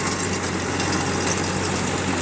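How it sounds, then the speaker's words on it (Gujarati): A tractor engine runs steadily at idle in a fennel field, a loud continuous rumble with a low droning hum and faint rattling vibration throughout. "હવે આપણા ટ્રેક્ટરનું પરફોર્મન્સ તમને બતાવીએ"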